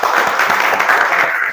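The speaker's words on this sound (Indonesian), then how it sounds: "Beri tepuk tangan dulu untuk Indra." A classroom of students claps for a classmate, a dense, steady burst of close applause that holds through the clip before trailing off at the end.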